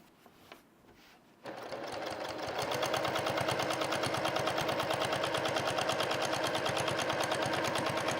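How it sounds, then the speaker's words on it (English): A sewing machine stitches quilted fabric for a bog coat, starting after a brief quiet pause and settling into a fast, steady mechanical chatter of needle strokes, close and fairly loud, with no talking over it. "Your instinct is going to be to want to sew from the sleeve inward, but you've got to sew from the chest."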